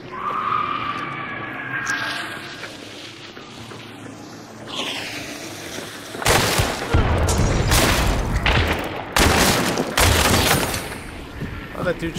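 Gunfire in the horror shooter Hunt: Showdown, quiet ambience at first, then a cluster of loud, booming shots and bursts in the second half, with players talking.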